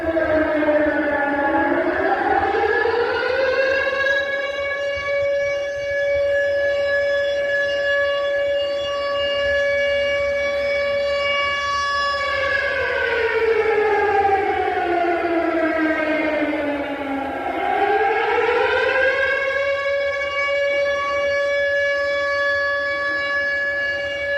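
A civil defense air raid siren wails outside Odesa city hall, loud and sustained, its pitch sliding down and climbing back up in long, slow cycles that repeat through the whole stretch.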